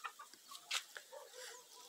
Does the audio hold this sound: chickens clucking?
yes